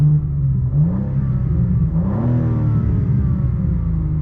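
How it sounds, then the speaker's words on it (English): A BMW M car engine revving with its amplified M sound on, a loud close bassy rumble that swells and falls in a couple of rising and dropping pitch sweeps. "M sound, so let's go ahead and listen to it real quick."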